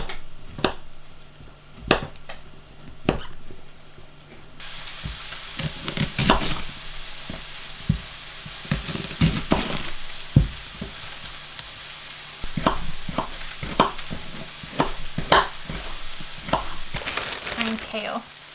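Chestnut mushrooms frying in a pan, a steady close sizzle broken by irregular stirring scrapes and knocks against the pan, at moderate loudness with no clear talk.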